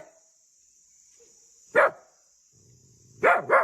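A dog barks in the snow, a single sharp bark followed by a quick double bark, close and loud over a steady high insect-like hum and low background murmur.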